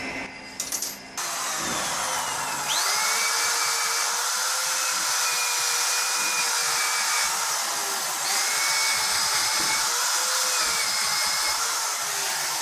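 A handheld power tool grinds out a crack in the aluminum cylinder head of a Suzuki DF140 outboard motor, a loud, sustained high-pitched whine that rises and falls slightly as the tool bites, close up and without talk.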